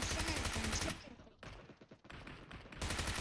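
Gunfire bursts from the PUBG battle royale game on the Erangel map, dense rapid shots filling the start and end with quieter gaps between, under a voice talking.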